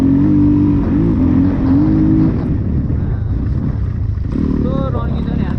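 A motorbike engine revs on a rough mountain road under construction, a loud, close, throaty drone that swells and eases in pitch, with a voice talking over it and the revs rising again near the end.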